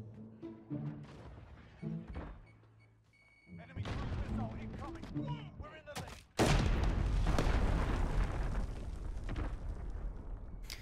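Assault rifle fire in the Modern Warfare video game, arriving as bursts and heavy booming blasts that grow to a loud, sustained roar in the second half, with someone talking over the early part.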